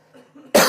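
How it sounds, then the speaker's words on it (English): A man with a sinus infection gives a single sharp cough at the end, after a brief quiet, faintly voiced lead-in. "I might cough a few times, I'm sorry,"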